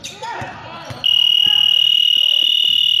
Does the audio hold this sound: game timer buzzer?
yes